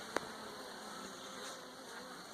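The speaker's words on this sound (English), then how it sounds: "the bees are not super thrilled about my presence right now." Honey bees swarm around an evening beehive, a steady, dense insect drone holding at moderate level across the whole stretch, with one brief tap near the start.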